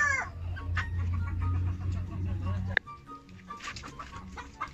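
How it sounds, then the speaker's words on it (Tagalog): Native chickens cluck and call close by on a farm pen in Najran, Saudi Arabia, a busy mix of clucks and cackles under a steady low background, thinning out after a sharp knock partway through. "Native po siyan, mga manok na yan."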